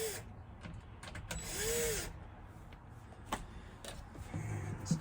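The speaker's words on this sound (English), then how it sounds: "Now we'll back these screws out." A cordless drill backs screws out of wood, giving short bursts of whirring spin-up with clicks and ratcheting between them, fairly close and moderately loud.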